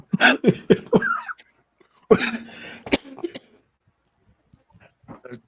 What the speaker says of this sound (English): Y'all excuse the coughing.